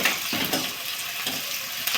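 Onions fry in a pan, a steady sizzle with a few soft scraping stirs of a utensil breaking through at intervals.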